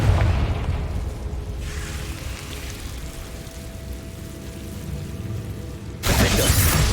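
A Confringo blasting spell in Hogwarts Legacy bursts into a loud rumbling explosion that decays into a long crackling, rain-like debris wash and low drone before a second sharp blast hits near the end.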